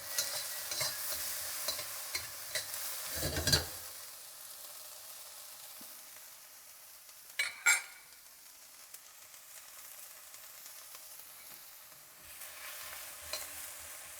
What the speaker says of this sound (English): you kind of want to let it sit for a little bit longer and then stir it around occasionally